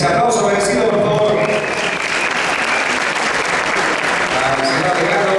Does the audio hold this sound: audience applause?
yes